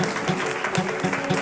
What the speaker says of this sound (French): Applaudissez s'il vous plaît pour le PNDC.